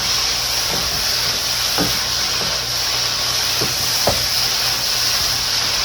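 Chicken fajitas with peppers fry in a pan, a loud continuous sizzle and hiss with occasional soft scrapes and knocks as the food is stirred, close up and without talk.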